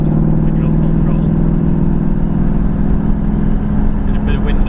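A Ford Mustang with a Roush axle-back exhaust and H-pipe accelerates gently, producing a steady, loud low drone with a throaty hum that holds evenly throughout.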